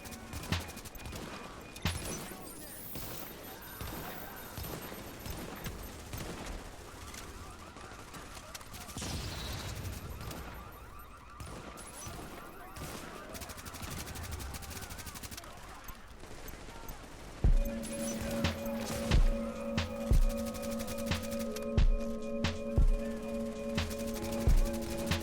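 Gunfire crackles in The Division during a Clear Sky incursion on hard mode, with bursts and scattered shots among game effects and rhythmic thumps later on.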